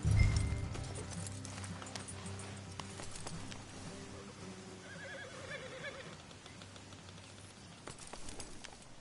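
Horses in the video game Red Dead Redemption 2 whinny and snort with scattered hoof clops, loud at first then continuing more softly against a low ambient rumble.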